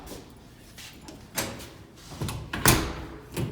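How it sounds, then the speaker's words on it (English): Commercial push bar panic door at a mall closing and latching, with a soft swing followed by a sharp metallic clunk of the latch near the end, heard close up with no talking. "close the door back again, everything locked from the outside"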